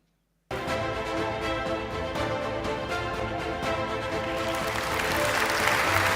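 An audience at a health and wellness marketing awards ceremony bursts into loud, sustained clapping after a moment of quiet, and the applause swells and holds steady to the end.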